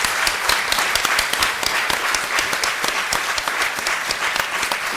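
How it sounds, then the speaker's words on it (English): An audience at a talk on the Irish language in Liverpool claps for the speakers, filling the room with sustained, dense applause from many hands at an even level. "Can we have a round of applause,"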